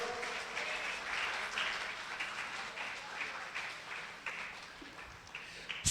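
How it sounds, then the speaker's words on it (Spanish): A church congregation applauds steadily at a moderate distance, a dense wash of clapping that carries on throughout with faint voices mixed underneath. "Dele ese fuerte aplauso a Jesús el Señor."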